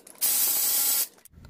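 A ratchet spins rapidly for about a second while backing bolts out of a metal bracket on a Honda Civic L15 turbo engine, a loud, close, buzzing burst of clicks with brief quiet on either side.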